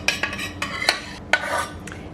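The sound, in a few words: adding melted chocolate and oil mixture into a bowl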